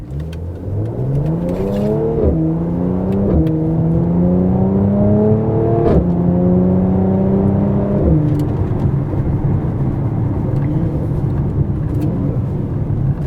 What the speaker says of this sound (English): has a very different sounding exhaust